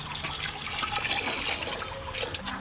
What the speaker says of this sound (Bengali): গামলা ধুয়ে জলটা দিয়ে দিচ্ছি।